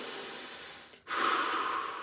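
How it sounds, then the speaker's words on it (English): Breathing during an upper-body functional lift workout: a steady rushing breath fades out, a brief pause, then a stronger, louder inhale or exhale follows, close and alone without talk. "Breathing in."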